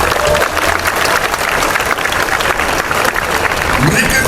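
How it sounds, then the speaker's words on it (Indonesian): Loud, steady applause from a crowd honoring a Papua province high school futsal team, filling the whole span with dense clapping and crowd noise, with voices mixed in beneath. "Tepuk tangan untuk itu dulu."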